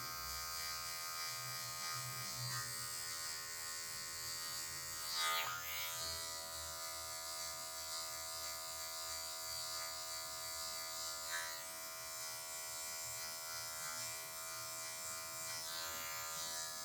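An electric hair clipper cutting a mid fade buzzes steadily and close throughout, its tone shifting slightly as the blade moves through the hair, with brief louder brushes against the head.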